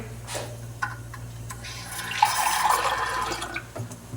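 Water pours in a soft trickle for mixing vermicelli, with faint splashing and drips over a low background hum. It grows slightly stronger midway.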